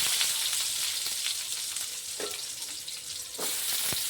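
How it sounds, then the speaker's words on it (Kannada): Chopped onions fry in oil for a dhaba-style egg gravy, giving a continuous bright sizzle with a few short clattering stirs scattered through it. "ಈರುಳ್ಳಿ ಫ್ರೈ ಮಾಡ್ಕೊತೀನಿ"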